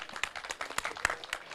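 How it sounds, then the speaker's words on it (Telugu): Audience clapping for Subrahmanyam at a Telugu film trailer launch event, with a short burst of uneven, moderately loud claps from a small crowd. "ఒకసారి గట్టిగా క్లాప్స్ కొట్టరా సుబ్రహ్మణ్యంకి."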